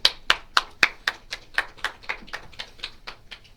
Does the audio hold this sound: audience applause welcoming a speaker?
yes